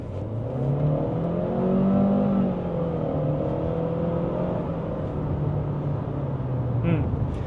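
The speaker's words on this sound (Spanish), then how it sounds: "Vamos a ponerlo en modo Sport, pedala a fondo." Chery Tiggo 7 Pro 2026 SUV with a CVT, floored in Sport mode, gives a steady, drawn-out engine drone that climbs and holds with little change, heard from inside the cabin under faint talk.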